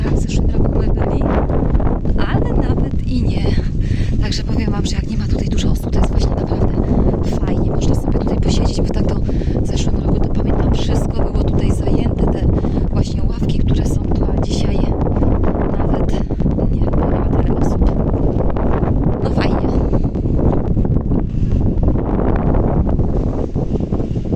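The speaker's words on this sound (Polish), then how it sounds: "wiatr wieje" Strong desert wind buffets the microphone continuously, a loud rough roar that persists throughout with gusty fluctuations.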